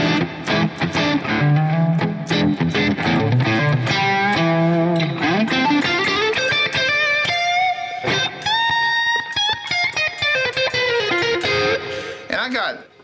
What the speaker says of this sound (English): Let's just say I want a light distortion.